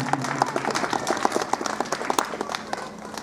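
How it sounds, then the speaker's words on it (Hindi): Applause from an audience at a primary school annual fete function, a steady patter of many hands clapping with some louder individual claps standing out, fairly close, faint voices underneath. "तो जोरदार तालियां होती रहनी चाहिए।"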